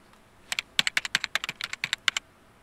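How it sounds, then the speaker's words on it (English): Quick, crisp computer keyboard typing, about a dozen clicky keystrokes in an uneven burst, close and clear with nothing else around. "Here is one sound clip called Typing."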